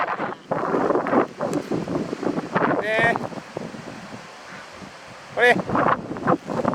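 Strong gusting wind buffeting the microphone in a park in the morning as Typhoon No. 19 approaches, rough and continuous, with voices talking close by.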